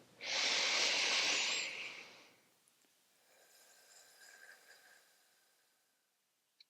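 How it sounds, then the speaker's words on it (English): A slow, deep yoga inhale is drawn in loudly through the nose as a long breathy hiss lasting about two seconds. A soft, quieter exhale follows, fading into silence. "Together we'll take a long, slow, deep inhale."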